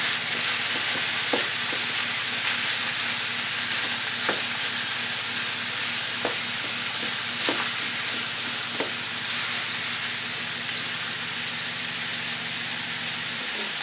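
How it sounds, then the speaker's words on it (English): Chopped meat fries in a pan with a steady, loud sizzle that carries through the whole stretch, broken by occasional sharp pops and crackles of fat and no voices. "So we'll cook this until it's golden brown. Okay, so the chopped meat's been cooking."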